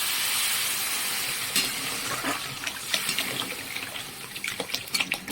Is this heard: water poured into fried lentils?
yes